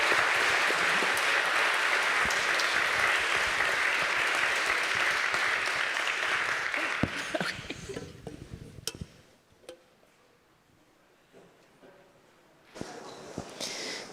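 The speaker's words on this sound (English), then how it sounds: "another round of applause for our great panelists." Audience applause for a panel at a political evening event, a dense steady clapping that fades out over several seconds, leaving a quiet room with scattered claps and a brief final burst.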